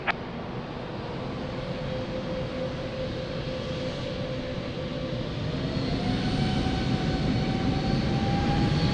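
Delta airliner on its takeoff roll from runway 02 at Lisbon Airport, a steady loud engine roar with a rising whine that swells toward the end, continuous and without talk.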